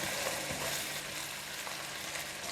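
Minced pork stir-frying in a pan after pepper and a drop of sesame oil go in, a steady close sizzle with light stirring scrapes running throughout, no voices.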